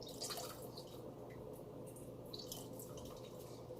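Lemon juice squeezed by hand for a homemade cough syrup, a soft continuous wet dripping and trickling into a container, steady and close with no talking.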